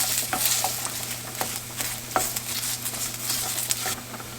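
Tomato paste being stirred in a hot pan for creamy prosciutto pasta, a steady close sizzle with scraping spoon strokes and small pops throughout, no talking.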